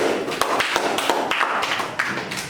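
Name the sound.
class clapping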